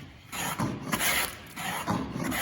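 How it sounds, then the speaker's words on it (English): A hand plane takes light shavings off a wooden board in a few soft, rasping strokes, close and fairly quiet with no talking. "I'm planing on a slight angle."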